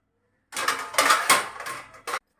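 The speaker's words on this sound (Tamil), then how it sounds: "அந்த பாத்திரம் எடுத்து நான் இதில் போட்டு வச்சுருவேன்" Washed dishes and metal vessels clatter as they are set one after another into a dish rack, a close, bright jangle of several knocks over about a second and a half, ending in one final clink.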